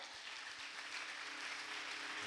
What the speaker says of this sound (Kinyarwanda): Tumukomera amashyi umwami.